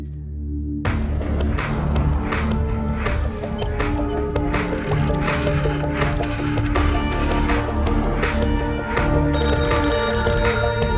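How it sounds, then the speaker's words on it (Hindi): A telephone in an office cabin rings repeatedly and insistently over a busy, dense background of music and bell-like tones, loud and close throughout, in an action film. "अकबर के कैबिन का फोन लगातार बज रहा है।"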